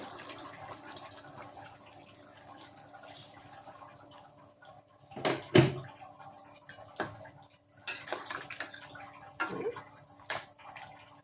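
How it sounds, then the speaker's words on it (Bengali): Water is poured into a pot of vegetables for a Bengali drumstick curry, sounding as short, close splashing bursts over a quiet background. "জল দিয়ে দিলাম।"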